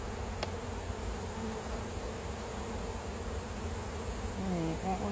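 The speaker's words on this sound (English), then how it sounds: "I'm going to have other bees trying to take stuff from it" Honey bees swarm and buzz around an open backyard hive during a honey pull, a steady dense drone throughout, with a brief voice near the end.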